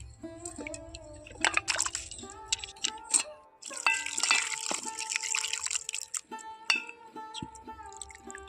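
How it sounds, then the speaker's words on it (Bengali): Grated potatoes being rinsed by hand in water, changed several times, make a jumble of splashes, drips and sloshing, loud and close, with clinks and pauses between bursts. "এইভাবে আমি তিন থেকে চারবার জল পাল্টে পাল্টে খুব ভালো করে পরিষ্কার করে নেবো"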